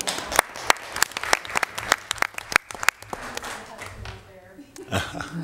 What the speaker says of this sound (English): Clapping for you.